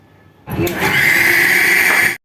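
Electric mixer-grinder blending chutney with curd starts suddenly after a quiet moment, running as a loud, steady high-pitched whir for under two seconds before stopping.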